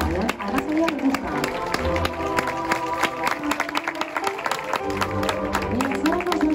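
An audience claps in a dense, sustained burst of applause at a sea lion show in the Madrid zoo aquarium, with music and a voice under the crowd noise.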